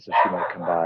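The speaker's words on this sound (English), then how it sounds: "Sorry about my dog barking in the back." A pet dog barks and yips in the background, excited by a squirrel, with a person speaking over it through most of the moment.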